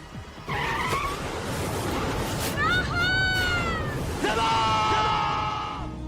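A car skids while braking, its tires letting out sharp, wavering squeals in two bursts over steady road noise, with frantic shouting voices throughout.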